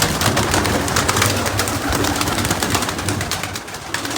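Pigeons cooing continuously and close by while being moved into cages, a dense layered murmur of many birds with light rustling and no clear speech.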